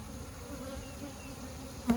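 Honey bees drone in a low, steady buzz close by, a continuous hum with a brief louder flick near the end.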